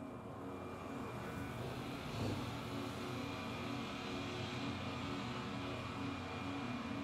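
Spaceship engines in Star Citizen hold a steady, even roar throughout takeoff, a constant broad hum with a slight swell a couple of seconds in, no voices over it.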